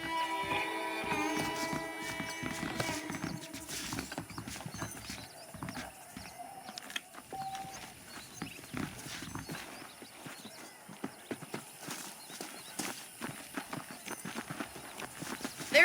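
Steady clip-clop of horse hooves at a walking rhythm in the video game Red Dead Redemption, fairly close, with a brief whinny early on and faint ambient sounds behind.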